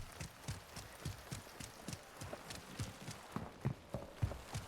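Running footsteps of a player character in Warzone 2.0, a steady quick rhythm of soft thumping steps on a floor, fairly close, with no talk over them.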